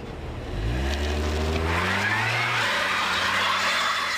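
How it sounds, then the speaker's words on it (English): A car accelerates on a road during a tire wear and grip comparison, its engine rising in pitch and then holding a steady, loud drone with broadband road and tire noise. "watch as the bottom car shoots out of sight"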